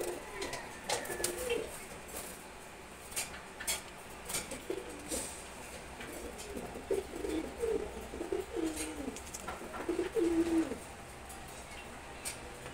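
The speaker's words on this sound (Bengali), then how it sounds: "নিচে আছে একজোড়া খাকি কবুতর।" A pair of khaki pigeons coo in soft, low, repeated calls against steady background noise, with faint clinks of dishes now and then.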